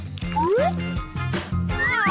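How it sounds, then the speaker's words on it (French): A real cat meows several times, close and loud, its rising and falling cries spread across the span over a steady low drone. "Oh, un vrai chat."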